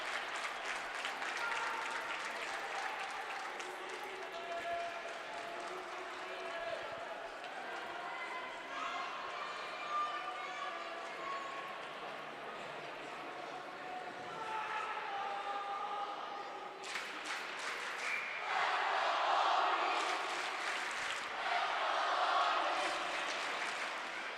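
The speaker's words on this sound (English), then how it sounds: "Crowd continuing to rally around their team as they have changed the narrative of this" A hockey crowd at a Nassau varsity finals game between Long Beach and Massapequa cheers and rallies for its team, a steady roar under commentary that swells louder with bursts of applause near the end.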